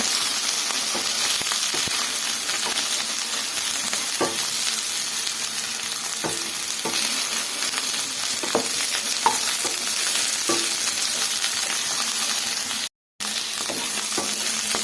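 Chopped bendekayi (okra) fries in a pan until reddish, a steady close sizzle broken by repeated clacks and scrapes of a spoon stirring, with a momentary cut near the end.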